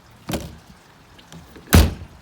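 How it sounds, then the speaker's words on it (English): A horse trailer's screen door clacks shut twice, a light knock followed by a louder, sharper slam, close by with quiet between. "Screen door."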